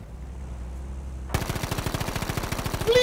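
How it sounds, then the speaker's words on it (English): Anti-aircraft flak guns in Battlefield V firing at a high bomber: after a quiet opening, a fast, steady run of loud rhythmic bursts begins and keeps pounding to the end, with no talking. "Another one coming in. Bomber coming in. Yeah, I see it. Quite high. Flax hitting him."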